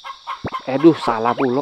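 Chickens clucking in the farming video game Harvest Moon Back To Nature, a few short, loud clucks and squawks close up, with someone talking over them and a steady high insect trill behind.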